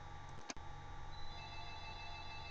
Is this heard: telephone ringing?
yes